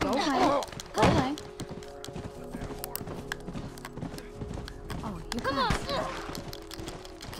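A horse runs in The Last of Us, its rhythmic hoof clops thudding through the scene alongside game noises and excited talking.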